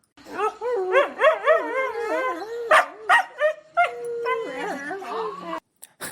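A husky barks, yips and whimpers in a long run of rising and falling cries, close and fairly loud, broken by a few sharper barks before trailing off.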